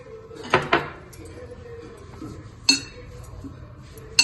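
A metal kadhai, an Indian wok, is set down in a home kitchen for dry-roasting, giving a couple of quick clinking knocks early on and another metallic clatter a moment later, moderately faint against a quiet room.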